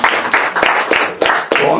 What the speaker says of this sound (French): On s'auto-applaudit.